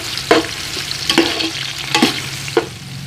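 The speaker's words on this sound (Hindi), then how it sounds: "तो घी हमने गरम कर ली है अब इसमें एक बड़ी साइज़ की ये मैंने प्याज ले ली है वो शामिल कर लेंगे प्याज को गोल्डन ब्राउन करेंगे" Onion sizzling in hot ghee for a large batch of mutton pulao, with a steady frying hiss broken by four separate stirring scrapes spaced roughly every second, close and fairly loud.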